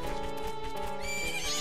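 A horse whinnies with a rising, shrill neigh over the steady clip-clop of hooves in the video game The Legend of Zelda: Majora's Mask.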